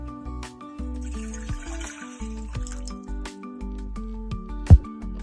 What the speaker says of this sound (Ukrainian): Набираємо водичку, так, виливаємо в кастрюльку.